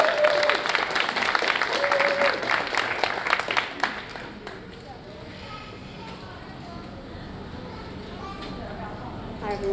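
Crowd applause at a live music gig, steady clapping for roughly four seconds that then thins into low room noise, with brief tonal sounds heard early on.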